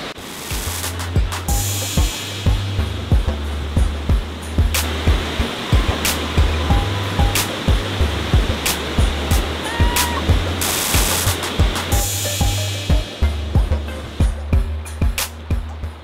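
Waterfall and rushing snowmelt water at Silver Falls, Oregon, a loud, steady roar filling the whole clip with no break, close by and unbroken.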